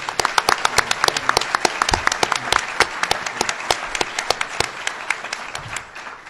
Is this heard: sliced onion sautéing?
no